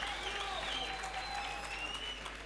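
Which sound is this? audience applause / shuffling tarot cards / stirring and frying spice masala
audience applause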